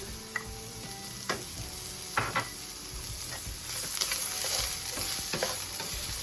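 Ginger and garlic sizzling in a hot pan for a coconut curry tilapia, a steady close hiss broken by a few scrapes and clinks as they are stirred.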